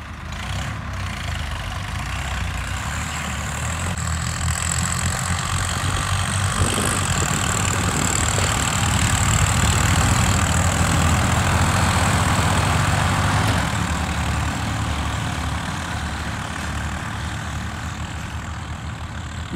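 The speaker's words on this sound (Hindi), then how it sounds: "रेस लगाने जा रहे हैं भाई तीनों ट्रैक्टर हैं" Swaraj 855 and John Deere 5210 tractors idle before a drag race, a continuous heavy diesel chug that swells slightly midway and holds steady and loud throughout, with no voices heard.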